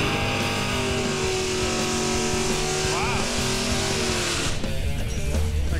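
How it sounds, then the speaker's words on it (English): A procharged 1968 Chevy Camaro drag car does a burnout at a drag strip, its loud sustained engine roar mixed with tire noise throughout and a brief pitch rise partway through. "Sounds like a healthy burnout."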